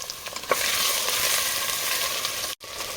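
Potatoes and soybean chunks fry on a high flame while being stirred, a close, continuous sizzle with a soft knock at the start and a brief cutout near the end.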